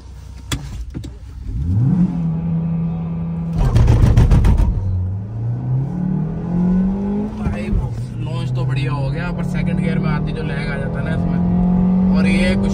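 A Suzuki Baleno and a Skoda Kushaq 1.0L launch side by side in a drag race, engines revving hard and climbing through gears with steady loud drone, while people talk over the engine noise throughout.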